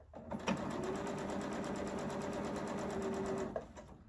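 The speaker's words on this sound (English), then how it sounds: "straight over to the machine, tuck in my threads, and start sewing" A sewing machine stitches batik cotton for a curvy geese quilting block, running in one steady, close, even whirr for about three seconds, with a soft clunk as it starts and stops.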